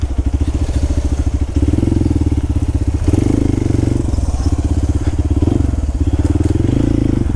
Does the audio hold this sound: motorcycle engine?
yes